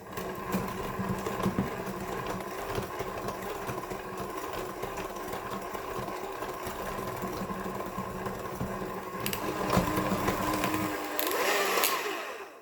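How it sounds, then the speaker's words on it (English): Electric hand mixer whirring steadily through a bowl of icing sugar and light brown sugar, a loud continuous motor drone that swells slightly near the end before cutting off. "And then we'll just give it a quick mix with a hand mixer."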